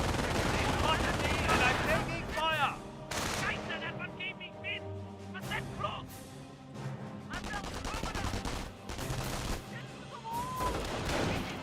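MG42 machine gun bursts in Company of Heroes 1, dense loud rattling fire mixed with other gunshots and battle noise, nearly continuous, with a voice talking over the action.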